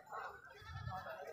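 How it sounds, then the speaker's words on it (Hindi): A goat bleats at a goat market in Bhopal, a short, wavering cry close by, set against a background of crowd noise. "तो भाई ये हमारे दोस्त असद और ये हमारा ही बकरा है।"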